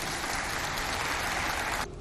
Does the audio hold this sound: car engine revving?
no